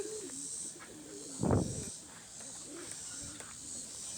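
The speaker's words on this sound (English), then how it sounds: "See old Papa Pigeon, he's dancing around up there" Pigeons coo inside a barn on a hobby farm, soft repeated rolling coos at a moderate distance, interrupted by one brief louder low thump partway through.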